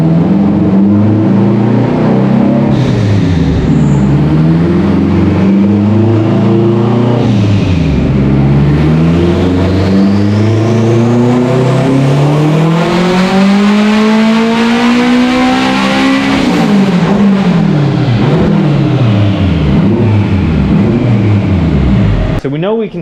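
An AWD Honda Civic engine roars on a dyno, revving up in long loud sweeps, dropping back and climbing again, with strong wind-like rush throughout.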